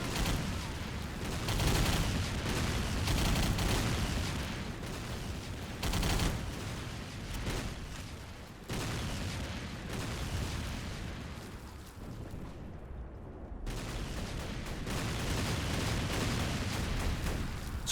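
Machine gun fire in the Xbox 360 game Battle for the Pacific, on a Wake Island mission: continuous, dense bursts of gunfire mixed with explosions, sustained loudly throughout with only brief breaks.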